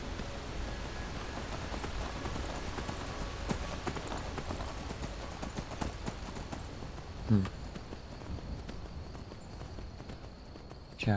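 Horse hooves clip-clopping steadily while riding in Skyrim, a continuous rhythmic patter at moderate level throughout, with a couple of brief louder knocks near the end.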